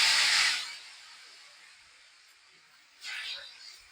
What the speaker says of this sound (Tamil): நல்லா கலக்கிட்டு ஒரு கரண்டியில மாவு எடுத்து நல்லா பறக்க ஊற்றணும்